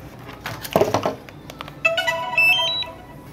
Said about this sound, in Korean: 전화 오면 안 되는데.